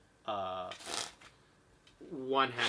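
Quick riffling flutter of playing cards being shuffled with one hand, in two brief bursts separated by a short pause, close and crisp.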